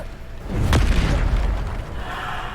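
A Bombarda spell blast in a magic video game goes off with a single loud, booming burst, its deep rumble fading over a couple of seconds.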